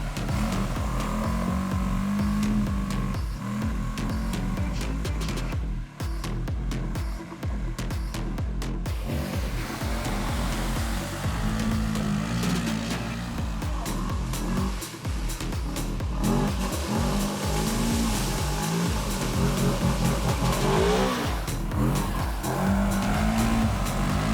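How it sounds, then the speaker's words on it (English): A Segway Villain 4x4 side-by-side buggy drives through deep muddy ruts, its engine droning and revving continuously with rattling and splashing, loud and close throughout without talk. "we are moving along the deep ruts without any difficulties"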